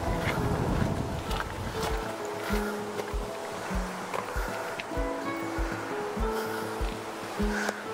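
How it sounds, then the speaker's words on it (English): Steady wind roars and buffets across the whole stretch on the Cumbria Way near Carlisle, with rushing, gusty noise and scattered low thumps, no voices. "Oh, windy."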